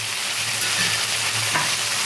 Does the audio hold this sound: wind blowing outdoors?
no